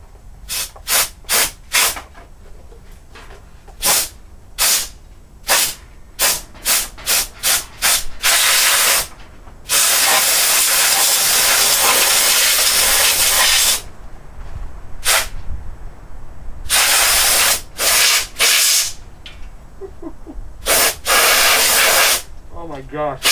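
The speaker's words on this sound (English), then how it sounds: "just going to fire up the air compressor and clean this thing out" An air compressor blows dust out of a dirty Acer computer in loud hissing bursts, first short rapid blasts, then a long sustained spray, then more short blasts.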